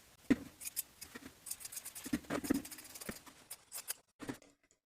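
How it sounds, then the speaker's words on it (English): Fabric scissors trim a collar's seam allowance while a shirtdress is sewn, a quiet run of crisp snips and slicing crunches in close irregular bursts, ending with a few final cuts. "Trim the seam allowance by 1/2."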